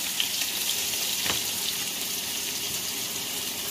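Green chili, garlic and finely chopped onions fry in oil over high flame for mutton kheema, giving a soft, even sizzling hiss that holds steady throughout with one faint clink.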